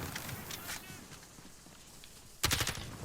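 Bursts of automatic gunfire from the Call of Duty Modern Warfare video game, faint at first and then a louder close volley near the end, under quiet speech.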